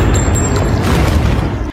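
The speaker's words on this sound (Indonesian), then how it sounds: "Alice segera menembak makhluk itu dengan kedua pistolnya" Pistol gunshots from a zombie film blast out in a dense, loud burst of booming shots over a short stretch, with no speech.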